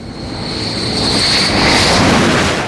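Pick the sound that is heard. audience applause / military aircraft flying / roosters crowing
military aircraft flying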